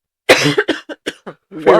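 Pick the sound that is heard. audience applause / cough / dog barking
cough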